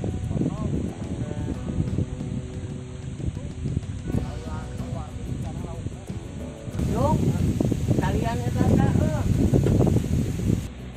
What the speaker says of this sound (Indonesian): Angin kenceng banget teman-teman ya.